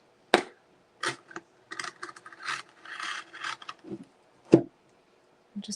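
Scissors snip and rasp through canvas in a series of short, close, irregular cuts with brief pauses between them.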